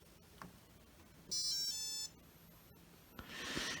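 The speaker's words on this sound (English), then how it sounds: "you can hear those differences of the beep noise." A short electronic beep sequence sounds from a Maytag MHW5630HW washing machine as it powers on, bright and tonal, in an otherwise quiet room.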